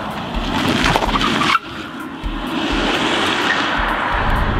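An Audi S5 converted to a Tesla electric drivetrain accelerates, a broad rushing road and motor noise with tyre roar and a brief dip partway, close and moderately loud, no talk.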